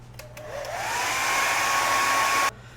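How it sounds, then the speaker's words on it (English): A hair dryer, used to speed drying on a foam Viking helmet, whirs up to a steady, loud blowing roar, holding constant for about two seconds before cutting off abruptly. "let's speed this up with the hairdryer."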